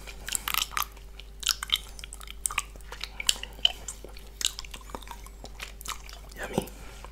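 Close, wet mouth noises of licking peanut butter, yoghurt and whipped cream off a plate: irregular smacks, squishes and sticky clicks, with no talking.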